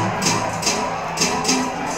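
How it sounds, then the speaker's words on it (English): Football stadium crowd at the Jamaica versus Bermuda international friendly, cheering after a quick counter attack, a loud continuous roar with repeated swells of shouting rising and falling. "And the crowd goes into a frenzy."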